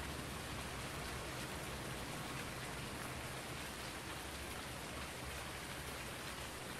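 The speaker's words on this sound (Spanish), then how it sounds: "A ver si para de llover" Steady in-game rainfall in Farming Simulator 19, a dense continuous hiss of rain on surfaces filling the whole stretch at even loudness, with no voices and no pauses.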